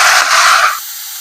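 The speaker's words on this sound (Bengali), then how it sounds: "কড়াইয়ের মধ্যে পুরো মিশ্রণটাকে আমি দিয়ে দেবো" A mixture of eggplant and small chuno fish hits a hot wok with a loud, bright burst of sizzling hiss that cuts off abruptly after under a second, leaving a quiet room tone.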